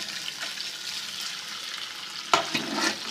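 A rice ball mixture is stirred gently in a pan over low heat, a soft continuous sizzle with a couple of sharper clinks and scrapes near the end.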